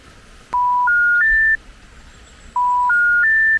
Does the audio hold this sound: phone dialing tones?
yes